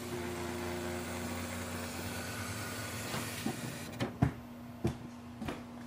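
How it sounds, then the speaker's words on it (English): Ink carriage of an Epson WorkForce WF-7310 printer moving inside the machine: a faint, steady mechanical whir with a low hum, followed by several soft clicks and knocks near the end. "and wait for the ink chamber to move."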